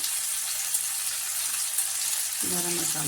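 Chilli parotta masala with Kashmiri chilli powder and garam masala sautés in a pan, a constant bright hiss of frying throughout, with a voice joining near the end.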